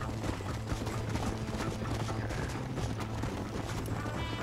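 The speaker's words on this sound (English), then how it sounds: "Come here, horsey." Horse hooves clip-clopping closer in the Western video game Red Dead Redemption, a steady galloping patter under dense in-game ambience and music.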